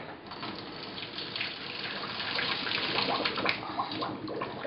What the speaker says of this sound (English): So I'm just draining the hot water.